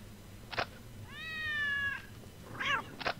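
A cat meows in the video game Postal 2, one long drawn-out meow in the middle with short sharp game noises before and after it, clear and close.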